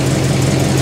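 Holden VC Commodore engine idling under an open bonnet after an alternator repair, belt tightening and coolant service, a steady low rumbling hum held close and fairly loud with no breaks.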